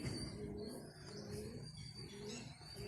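Pigeons coo softly outdoors, low repeated calls against a faint background hum with occasional higher chirps, no voices present.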